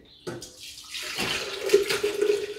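Cooled lemon syrup poured from a pan into a pitcher for fresh lemonade, a steady splashing pour that starts abruptly and runs on, close and fairly loud.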